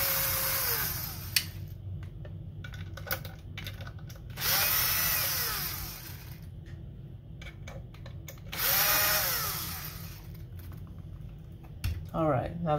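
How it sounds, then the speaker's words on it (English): Power screwdriver backing screws out of an Xbox Series X console, with several whirring bursts of rising and falling pitch separated by clicks and handling noise, close up, with someone talking between them. "we're gonna need to take the screws out of here"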